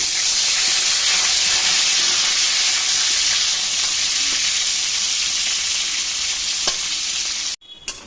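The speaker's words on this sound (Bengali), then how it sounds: "পিস আলু একটু ভেজে নিচ্ছি।" Steady, loud sizzling of potato pieces frying in hot oil, a dense crackling hiss that runs unbroken until it cuts off abruptly near the end.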